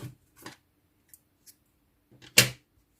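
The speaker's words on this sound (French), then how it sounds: "je vais couper le fil rouge" Scissors snip through red knitting yarn while an elf hat with a Father Christmas jacquard pattern is being knitted, a few faint ticks before one sharp, close cut, heard alone in a quiet room.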